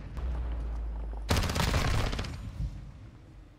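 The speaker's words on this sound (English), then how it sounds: "Vals is actually shooting right now" Gunfire in a Call of Duty match breaks out suddenly after a quiet stretch, a dense burst of rapid shots that rings loud, then thins and tails off, with no talk over it.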